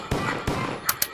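A shotgun fires in a video game, with four sharp, loud blasts close together inside about a second.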